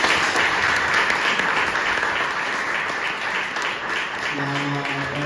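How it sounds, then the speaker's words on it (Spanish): Loud, sustained applause from an audience at a talk and danzón performance event, a dense continuous roar of clapping with a faint tonal sound creeping in near the end. "Creo que se merecen un fuerte aplauso."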